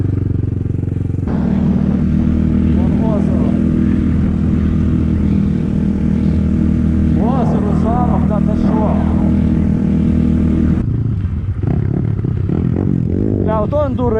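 Geon 300, BSE 250 and Skybike 250 motorcycles ride along a road in cold evening air, a loud steady engine drone that shifts near the end, with voices talking over it.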